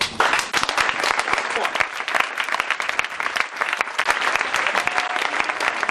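A church congregation breaks into sustained applause, many hands clapping densely and evenly for several seconds, filling the room with a bright, steady patter.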